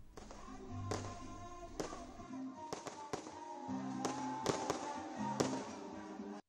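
Fireworks and firecrackers burst at New Year 2025 celebrations across India, with irregular sharp bangs and crackles over a steady background of music and crowd noise.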